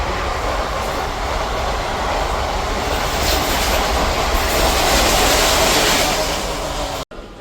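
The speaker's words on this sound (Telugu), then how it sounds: "మనకి ఇప్పుడు పక్క నుంచి ఏదో ట్రైన్ అయితే ఓవర్టెక్ కొడుతుందండి" Another train overtakes alongside a MEMU passenger train, its loud, continuous rail rumble and rattling wheels roaring steadily before cutting off abruptly near the end.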